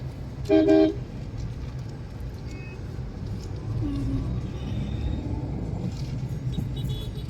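A single short car horn toots on a busy morning road, then steady traffic rumble of cars and motor vehicles continues at moderate loudness.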